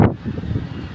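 Wind blowing on a cold Budapest street, a close, rushing buffet against the microphone with a low rumble and a sharp gust at the start, then steady turbulence.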